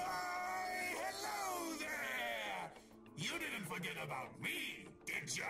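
The badge salesman character in A Hat in Time screams in a long, loud, wavering yell, followed by broken, groaning vocal bursts and brief pauses.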